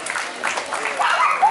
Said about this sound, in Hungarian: nagyon nagy tapsot szeretnék kérni a lányoknak